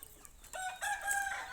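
A rooster crows with a drawn-out, harmonic call while hens cluck nearby; the sound is close and fairly loud, with the crow rising strongly after a short, quieter clucking lead-in.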